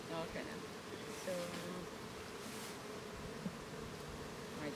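Honey bees buzzing steadily around an open hive at an apiary bee farm, a dense, continuous drone close by with no pauses.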